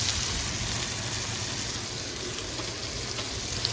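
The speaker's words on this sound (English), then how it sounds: "So then our Brussels sprouts go right in like that." Brussels sprouts sizzle steadily in a hot pan with butter, a continuous close frying crackle with a low hum beneath and no talking.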